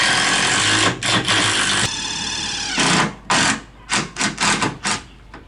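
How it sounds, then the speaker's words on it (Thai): A DeWalt impact drill works on concrete foundation formwork for a small house, loud rapid hammering bursts that start and stop, with a long steady run followed by several short repeated pulses. "ตัวนี้เป็นสว่านกระแทกของดีวอ ค่อนข้างใช้งานได้ดีนะครับ"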